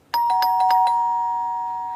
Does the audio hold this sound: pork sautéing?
no